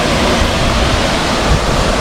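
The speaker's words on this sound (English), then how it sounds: "There is this beautiful waterfall for them" Waterfall in a bird enclosure at Dubai Safari Park; a loud, continuous broadband rush of falling water, close by and unbroken, with no voices.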